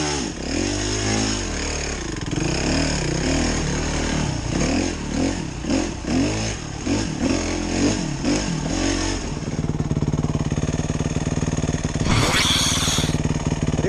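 Off-road trail motorcycles such as a Yamaha Serow 250, Serow 225, Tricker, CRM, YZ and TLR run on a forest trail in Kimitsu, Japan, their engines loud and close with uneven revving and idling throughout, and a brief whooshing burst near the end.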